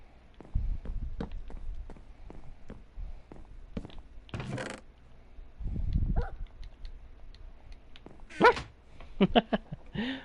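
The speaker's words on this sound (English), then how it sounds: "Wolf decides to bark." Minecraft wolf barking on PS4 Bedrock edition, a few short yips scattered over about ten seconds amid game footstep and movement noises, fairly quiet and with no talking.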